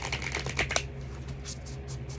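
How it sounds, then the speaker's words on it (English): Quick riffling of cards being shuffled up close, a crisp fluttering burst followed by softer slides and taps. "I'm going to shuffle these up."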